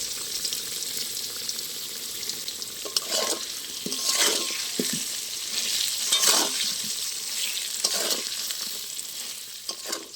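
Potatoes fry in oil tempered with whole spices, giving a soft continuous sizzle. A spatula stirs and scrapes the pan in intermittent strokes, close by and fairly quiet.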